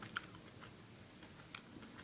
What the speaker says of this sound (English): just chewing it up like that